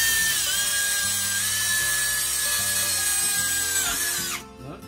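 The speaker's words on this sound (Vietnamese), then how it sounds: "Rồi ok, khoan sắt luôn. Dạ rồi, test thử coi khoan nổi không." A HUKAN 16.8V cordless mini screwdriver drills into iron, its loud steady whine holding for about four seconds before cutting off abruptly, with no talk over it.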